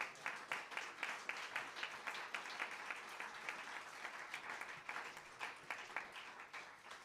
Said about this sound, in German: Ein herzlicher Applaus nochmal für die wunderbare Musiker.